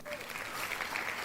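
Faint, steady applause from a small group on a podcast, a short wash of clapping with a voice underneath.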